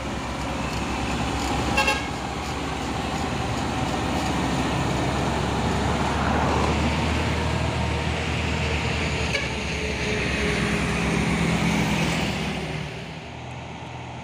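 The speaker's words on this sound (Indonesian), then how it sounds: "Dan ini juga ada satu nitro Hino TI melewati tanjakan Bukit Kodok di pagi hari." Hino truck labouring up the steep Bukit Kodok hill road in the morning, a steady loud engine drone with road noise and a brief horn toot early on, fading slightly at the end.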